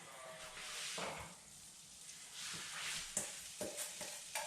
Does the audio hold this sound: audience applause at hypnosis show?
no